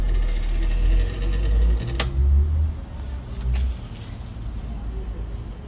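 A Whirlpool 8.5kg 6th Sense automatic washing machine motor runs its spin cycle after a driver board repair, giving a steady low rumbling drone with a few faint mechanical clicks.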